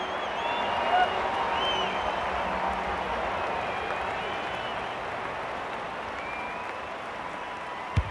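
Steady broadband crowd roar and applause from an AFL 26 video game football match, sustained at moderate level throughout with a brief louder swell near the start and a sharp click at the end; commentator speech is faintly mixed under it.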